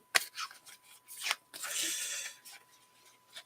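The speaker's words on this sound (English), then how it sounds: "I was never really good at shuffling these kind of cards" Quiet handling of a deck of affirmation cards being shuffled by hand: scattered soft riffles, slides and papery scrapes in short uneven bursts, close and faint, with one longer rustle in the middle.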